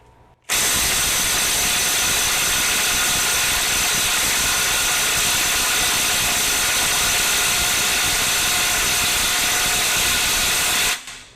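A Kobalt 24V brushless impact driver hammers continuously for about ten seconds at around 400 foot-pounds against a bolt that will not break free, a loud dense rattling buzz that starts and stops abruptly.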